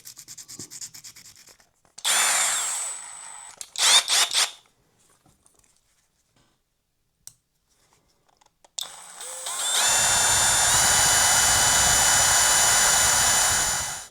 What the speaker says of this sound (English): Going over some sandpaper.